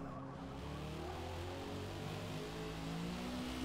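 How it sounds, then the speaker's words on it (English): Porsche race car engine in Forza Motorsport at Grand Oak, a steady droning roar that swells slightly as the car closes in from behind, blended with another engine's hum. "I have the Porsche coming up on me now for that."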